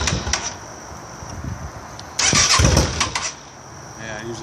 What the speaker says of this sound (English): You're just gonna crank it a few times till it dies.